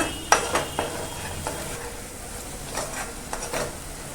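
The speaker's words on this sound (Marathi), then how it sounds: "हळद पण ना अशी थोडीशी आपण ना तेलावरती परतून घेऊया" Turmeric and softened onion are stir-fried in oil for a raw banana curry, with a soft background sizzle and a few sharp spatula clicks and scrapes against the pan, close and without talk.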